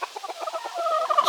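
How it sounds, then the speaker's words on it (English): A hen walking through a garden gives a rapid run of clucks, a dozen or so quick, close pulses rising into a brief louder call at the end. "chicken, chicken."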